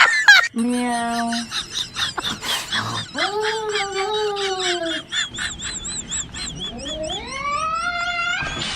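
Frightened cats meowing loudly, a run of drawn-out, wavering cries with rising and falling pitch, close by, with a few short exclamations mixed in.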